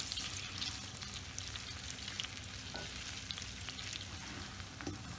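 Semolina cooking in melted butter while being stirred, heard as a steady soft sizzle with faint scraping strokes of the spoon in the pan, quiet and close, without any voice.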